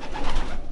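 A brief, low pigeon coo, soft and throaty, heard close up against a faint background hum.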